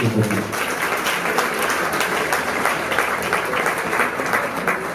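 An audience applauding a couple at a celebration, dense sustained clapping from many hands, loud and close, with a voice fading out at the very start.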